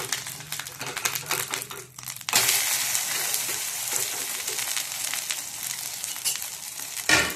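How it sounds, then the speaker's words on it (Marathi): Fasting thalipeeth roasts on a covered pan over a low flame, giving a continuous close sizzle with crackling, a brief dip and then a brighter steady hiss, plus a short clatter near the end; no voices. "हे 1-2 मिनिटं आपल्याला छान शेकून घ्यायचं आहे लो फ्लेमवरती"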